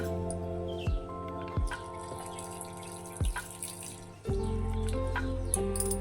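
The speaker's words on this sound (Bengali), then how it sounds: "এই যে উষুম করে রেখেছি এই জলটা দিয়ে দেবো ওটার মধ্যে" Warm water poured into a grinder jar, a soft steady trickle and splash with a few drips and a louder gush near the end, close and quiet.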